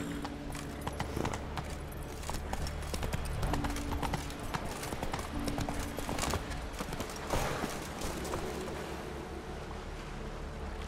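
Hooves of Roach, the horse in The Witcher 3, clop in a steady, moderately close rhythm, with wind and water ambience and game music underneath.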